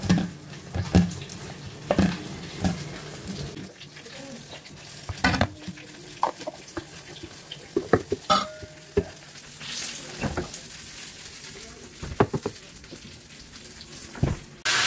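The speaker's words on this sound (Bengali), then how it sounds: "মাছটা ভাজা হয়ে গেল" Fish sizzling in a pan with steady frying hiss, broken by frequent clinks and scrapes of a utensil stirring and turning, close by.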